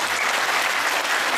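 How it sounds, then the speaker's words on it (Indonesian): Steady, dense applause fills the short stretch from an audience at a sholawat religious gathering in Hong Kong, continuous and even with no pauses. "Tepuk tangan masa depan kalau begitu."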